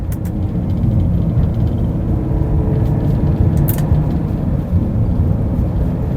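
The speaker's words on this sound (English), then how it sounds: "I can hear some wind noise up in the panoramic roof" Wind rushes around the panoramic roof of a twin-turbo 450 hp V8 Porsche while driving, a steady broad roar with low road rumble throughout, no speech.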